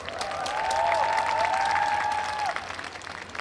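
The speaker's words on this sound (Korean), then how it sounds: "여러분 한 분 한 분 다시 한번 큰 박수 부탁드리겠습니다" Crowd applause for the musicians at a jazz festival open-mic jam session, a sustained clapping wash under a held sung or instrumental tone that fades out, with scattered claps trailing afterward.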